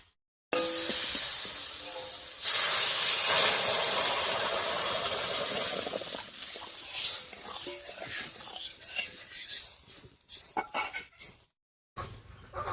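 A loud burst of hissing steam as water hits potatoes frying with turmeric and salt in a hot pan, settling into a softer bubbling sizzle with a few utensil clinks near the end.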